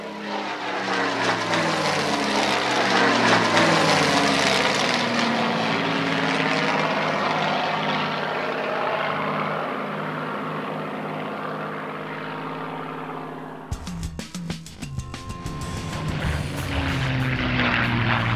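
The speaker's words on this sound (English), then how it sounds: "the legendary Merlin cranks into life." A Spitfire's Rolls-Royce Merlin V12 engine roars steadily at close range, its propeller-driven drone shifting pitch as it runs, then cuts abruptly into a harsher, rougher note near the end.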